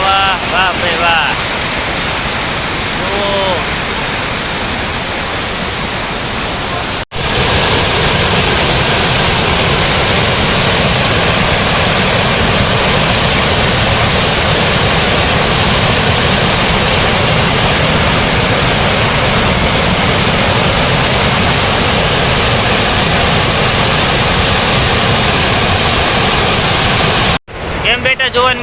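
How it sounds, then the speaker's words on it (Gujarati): The overflowing Shetrunji river below the dam after heavy rain, a loud, unbroken roar of rushing floodwater heard from a bridge, with wind buffeting the microphone and a brief voice near the start. "શેત્રુંજી નદી ફૂલ ઓવરફ્લો થઈ રહી છે તેનું નદીનું પ્રવાહ"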